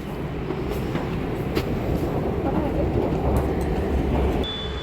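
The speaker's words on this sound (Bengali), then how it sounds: "ওই যে মেট্রো দেখা যাচ্ছে, ওইটাই আসবে এই লাইন ধরে" A metro train approaches with a low, continuous roar with rattling and clanking, growing slightly louder toward the end, a faint high whine appearing at the close.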